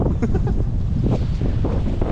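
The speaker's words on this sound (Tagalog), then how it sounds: "Grabe lakas ng hangin." Strong wind at a fishing pond in rainy weather, buffeting the microphone with loud, continuous low rumbling and gusty roar throughout.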